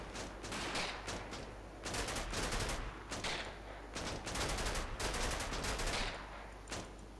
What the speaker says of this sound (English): they sure have a lot of MG42s